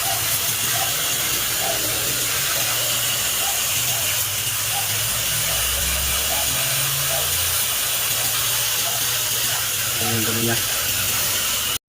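Strong water flow from an air conditioner drain pipe during unit cleaning, a steady loud hissing rush running throughout, with faint intermittent tones in the background.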